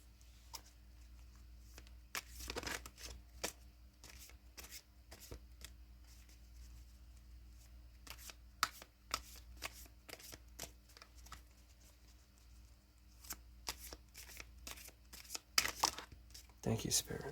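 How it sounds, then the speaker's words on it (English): Tarot cards being shuffled and pulled from the deck: soft, close riffling and flicking bursts scattered over a quiet background with a low hum, with no talking. "Let's pull the next card."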